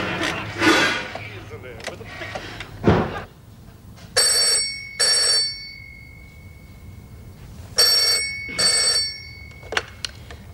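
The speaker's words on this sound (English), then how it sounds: "I'll give Meg a ring." A telephone rings in a room with two-burst ring patterns repeated twice, bright and fairly close, with a few clattering household sounds before the ringing.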